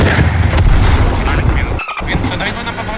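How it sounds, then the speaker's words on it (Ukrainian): Tank battle with an anti-tank guided missile launch and gunfire: a loud, continuous roar of blasts and shots, briefly dipping near the end, with voices mixed in. "Там птур пускаю."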